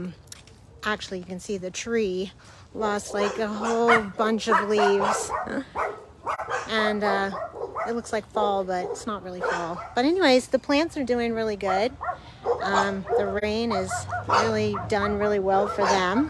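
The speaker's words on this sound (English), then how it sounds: "Sorry about the barking dogs." Several dogs bark, yip and whimper nearby on a rain-soaked garden patio, repeated bursts running under continuous talk.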